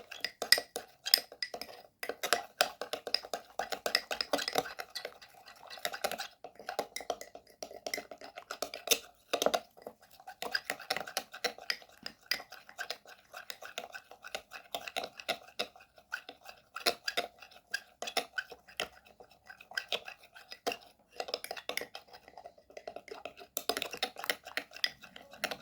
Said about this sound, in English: And mix well all the ingredients.